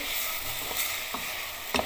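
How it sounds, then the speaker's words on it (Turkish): Sliced large onion sizzles steadily in a hot pan, with occasional soft scrapes of a utensil stirring it. "Bir tane büyük soğan doğradım. Piyaz şeklinde. Piyazda onu kavuruyorum."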